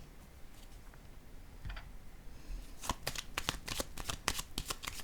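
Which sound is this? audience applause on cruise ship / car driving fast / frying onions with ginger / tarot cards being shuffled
tarot cards being shuffled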